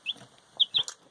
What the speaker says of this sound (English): baby chickens.